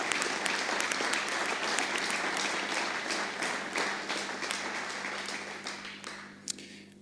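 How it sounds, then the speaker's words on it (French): An audience at a municipal council meeting applauds in a room, with dense sustained clapping from many hands that thins and fades toward the end. "Vous pouvez l'applaudir."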